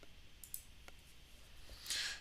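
A computer mouse clicks the next button in a software installer: a few faint, quiet clicks close by, then a brief soft hiss, with no talk.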